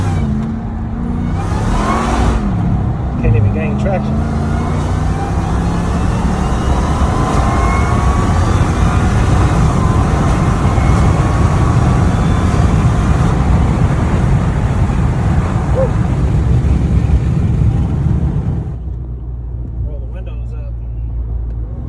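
Ram TRX truck running with no catalytic converters and no muffler, its engine roaring loud and close under acceleration for a long stretch before settling to a lower rumble, with voices in the background.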